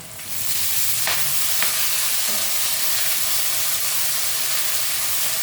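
Leafy greens (shak) sizzle loudly in a hot pan with steady frying hiss, punctuated by a few scraping stirs of a spatula; no voices.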